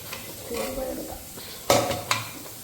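Green gram (mung beans) frying and being stirred in a pan over lowered heat in a home kitchen: a steady soft sizzle with scraping, broken by two sharp utensil clanks against the pan near the end.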